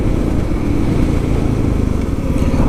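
A Kawasaki KLX300SM motorcycle engine drones steadily while being ridden, a loud, close, continuous buzzing roar without talk.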